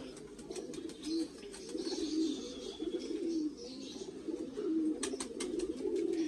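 Pigeons cooing near and softly in a breeder's loft, repeated low rolling coos overlapping one another throughout, with faint background rustling.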